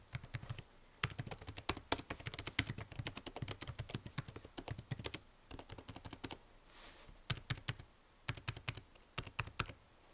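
Fast, steady typing on a ProtoArc XK01 foldable portable full-size Bluetooth keyboard, with dense bursts of crisp key clicks and a few brief pauses, close and clear with no talking.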